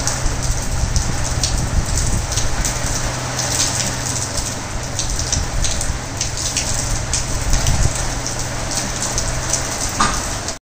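Steady rain pours down in Bilaspur during the monsoon, a dense, even hiss of drops on surfaces that stays loud and close throughout, with no talk over it.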